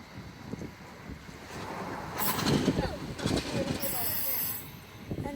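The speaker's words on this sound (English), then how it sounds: "And there goes the train." An Adelaide Metro train passes through Largs North station with a low rumble, rattling wheels and brief high squeals, while people talk nearby.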